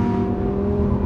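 Lamborghini Huracan Evo or McLaren 600LT supercar engine on a race track, a loud sustained drone heard from close by, holding a steady pitch without obvious revving.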